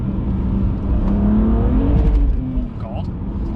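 A 720bhp 2020 Audi RS6 accelerating hard on a straight, its exhaust roaring steadily and loudly up close, with excited voices talking over the engine throughout.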